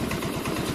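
Yamaha Mio M3 scooter engine idling with an irregular, surging idle, a steady close mechanical putter with a faint rhythmic pulse and no talk over it.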